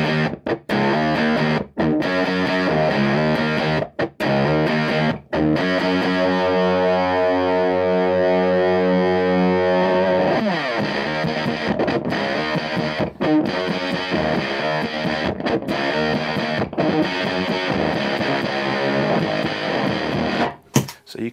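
Electric guitar running through a Dirty Boy Octo '59 octave pedal, heavily distorted with a thick doubled octave tone, playing sustained notes and riffs close and loud with short pauses between phrases.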